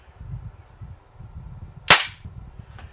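A single sharp crack from a Daisy 880 air rifle fired standing unsupported at a 10-yard line, close and loud over low background rumble, followed by a faint tap a moment later.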